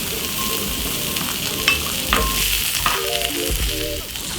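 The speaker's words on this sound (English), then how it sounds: "add a little bit more oil and then time to get in some onions" Onions fry in oil on a hot grill plate, giving a loud, continuous sizzle with occasional stirring scrapes and clicks, close up and without talk.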